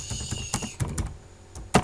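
Fingers type on a computer keyboard in a close series of clicky keystrokes, irregular in rhythm with a few brief pauses, and no talking over it.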